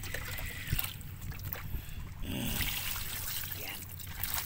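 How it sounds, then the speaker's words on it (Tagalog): Water poured into a container of drinking glasses before ice is added: a continuous trickling, splashing pour, close and moderately loud, with faint background noise. "Lagyan mo ng tubig."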